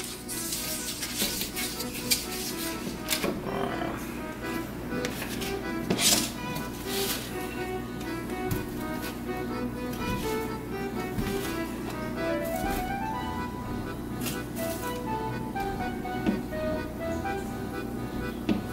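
Food cooks in a pre-warmed pan, giving a steady sizzle with clinks and scrapes of utensils against the pan and scattered clattering, moderately loud and close with no talking.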